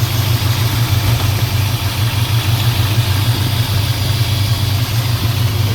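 A restored 1968 Dodge Charger R/T with a 440 big block idles up close, giving a loud, steady, even rumble with a smooth low pulse and no talking.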